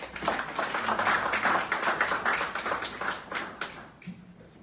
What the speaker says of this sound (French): Je vous demande d'applaudir, s'il vous plaît, le professeur.